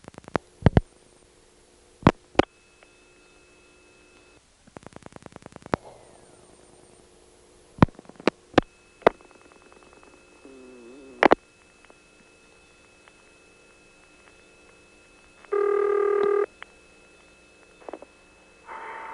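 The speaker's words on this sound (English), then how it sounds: "you'll hear it making its hunting noise as it connects us to intercept" Siemens electromechanical motor switch in a 1978 Florida telephone office hunting as it connects a call to intercept, sharp scattered clicks and clacks, a brief whirring buzz, faint tones and a short buzzing burst near the end.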